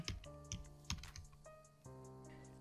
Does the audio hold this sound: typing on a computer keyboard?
yes